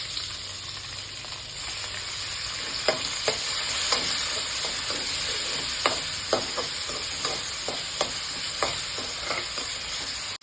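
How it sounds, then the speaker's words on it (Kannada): Chopped onions frying in a pan for veg kadai, a steady close sizzle broken by a run of sharp, regular scraping strokes as they are stirred. "ಈರುಳ್ಳಿ ಸ್ವಲ್ಪ ಕಂದು ಬಣ್ಣಕ್ಕೆ ಫ್ರೈ ಆಗಲಿ"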